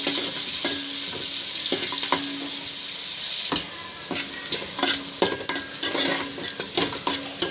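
Onions, chillies and whole spices fry in oil for a country chicken biryani, with a steady close sizzle broken by repeated scraping clinks of a spoon stirring against the pan.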